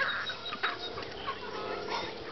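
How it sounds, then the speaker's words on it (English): Chickens cluck repeatedly in a yard, a steady stream of close, overlapping hen calls and short squawks with no talking. "These chickens are freaking ninjas."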